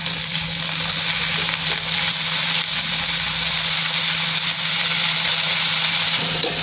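Washed green bean pods with onion, cumin and turmeric sautéing in hot oil in a Maharashtrian home kitchen: a loud, continuous close-up sizzle and hiss with no talk.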